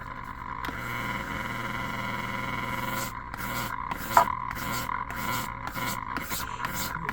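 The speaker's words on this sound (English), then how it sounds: "Give it another few revolutions with the cleaning fluid on it," Soft rubbing and wiping as cleaning fluid is worked into a spinning Columbia vinyl record, a steady quiet hum underneath, then short repeated rubbing strokes with one sharper bump midway.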